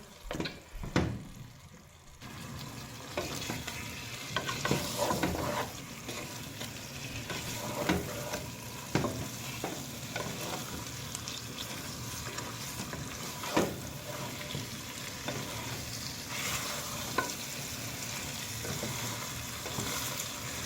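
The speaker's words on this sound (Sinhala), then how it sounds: "දැන් අපි චිකන් එක ගින්දර ටිකක් වැඩි කරගෙන අපි පුරු ගාගමු" Chicken pieces for a spicy Sri Lankan curry stir-frying in oil on a high flame, a continuous loud sizzle broken by scraping stirs of the spoon against the pan, close up with no talking.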